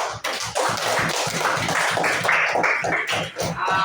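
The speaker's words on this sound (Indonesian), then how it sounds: "ayo pantas kita tepuk, beri aplaus kepada kawan kita" Classmates in a classroom applaud a friend, a dense burst of hand claps continuing steadily and close for several seconds with no speech over it.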